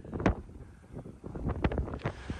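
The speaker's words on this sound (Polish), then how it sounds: "ale strasznie tutaj wieje i tutaj zawsze wieje" Strong gusts on coastal cliffs blast the microphone in bursts, loud rumbling thumps rising and falling over a few seconds, with no speech.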